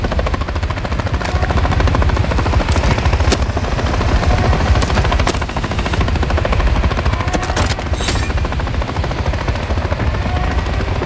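Helicopter rotor drone mixed with rapid machine-gun bursts and scattered gunshots in the video game Call of Duty: Modern Warfare 3, a loud, dense, unbroken battle din with no voices.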